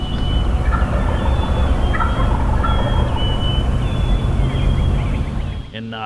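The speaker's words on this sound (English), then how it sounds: "We're hearing gobbling everywhere." Wild turkeys gobble repeatedly across a field at dawn during a spring bow-hunting setup, their calls rising over a steady rumble of outdoor noise, some nearer and some distant.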